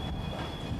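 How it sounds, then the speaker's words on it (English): A preserved Belgian Class 40 diesel hydraulic multiple unit from 1957 runs along, giving a steady rumbling rail noise with a thin high whine, close and continuous. "This train is formed of one of the 2 surviving Class 40 diesel hydraulic multiple units"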